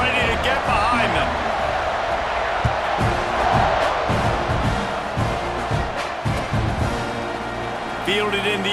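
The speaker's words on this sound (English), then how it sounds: "this crowd now ready to get behind them" A stadium crowd in EA Sports College Football 26 roars steadily, loud and continuous, with thumps and whoops in it and a commentator talking over the noise.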